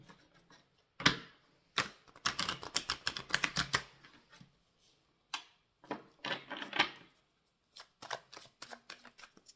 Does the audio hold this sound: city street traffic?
no